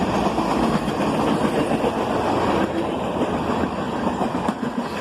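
Empty flat cars at the tail of a freight train roll by, the wheels keeping up a steady rumbling clatter that eases slightly toward the end.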